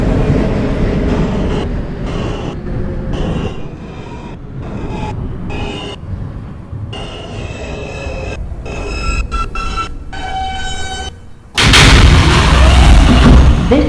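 R160 subway car riding a Manhattan-bound J express, loud steady rumble with rhythmic wheel clacks over rail joints, squeals and a sudden louder roar near the end.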